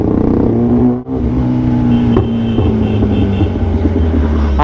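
A Royal Enfield Bullet motorcycle racing on an Indian road gives a loud, steady engine drone with shifting revs and a brief dip about a second in, heard alone without talk.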